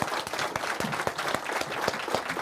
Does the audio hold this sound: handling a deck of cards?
no